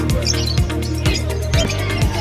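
Pet birds, including lovebirds, chirp at a pet market in Malabon with quick repeated tweets over a steady murmur of crowd noise and low thumps.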